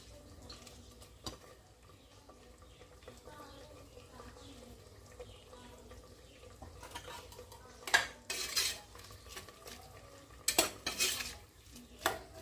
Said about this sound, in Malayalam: ഇനി നന്നായി ഇളക്കി യോജിപ്പിച്ച് വേവിച്ചെടുക്കണം